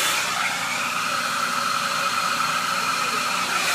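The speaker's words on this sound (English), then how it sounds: "slowly rotate on a horizontal axis your Mondo Extreme with the hairdryer in high power" A hairdryer on high power blows over a 5.8 GHz Mondo Extreme video transmitter as it is slowly rotated, giving a steady, close, unbroken airy roar with no talk over it.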